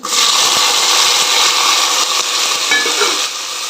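Tomatoes hit hot oil in a pan while mint chutney is being cooked, and a loud, steady sizzle with some stirring runs throughout with no talking.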